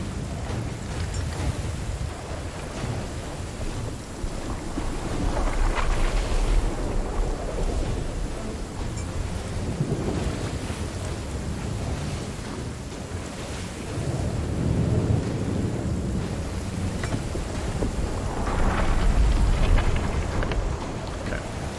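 Stormy sea ambience in a sailing video game, a steady roar of wind, rain and surf that swells and fades in long waves, with low rumbles that could be thunder or creaking of a boat's hull, no talking.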